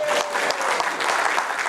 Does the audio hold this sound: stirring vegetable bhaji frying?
no